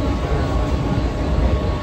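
A passenger train that is mostly empty keeps up a loud, steady rumble and rattle while riding toward Ulhasnagar station, with no clear voices heard.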